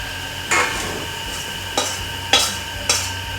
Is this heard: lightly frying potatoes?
yes